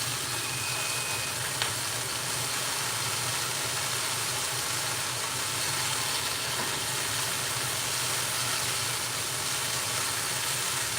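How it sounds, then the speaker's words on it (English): Long green beans sizzle steadily in a pan over low heat, their moisture keeping up a constant, even hiss with no pauses and no voices. "they've got so much moisture in them that they're still sizzling quite a lot"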